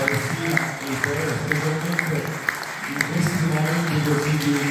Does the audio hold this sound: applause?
yes